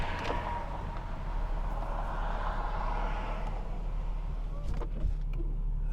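A Mercedes-Benz W215/W220 car drives along with a steady, moderately loud engine and road drone from inside the cabin, swelling slightly as it pulls through gears.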